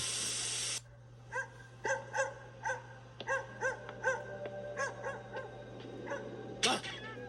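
Dog barking in an anime scene: after a burst of hissing spray, a run of about ten yelping barks in a quick, uneven rhythm with a low steady hum beneath, and a short hiss near the end.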